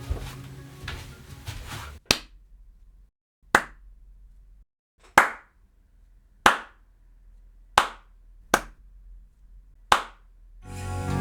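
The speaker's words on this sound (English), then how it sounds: "So let's head back and do some claps again and hear the difference." Sharp hand claps ring out one at a time, about seven in all and evenly spaced, in an acoustically treated home studio room with diffusers at the back. Each clap has a short, controlled decay into near silence.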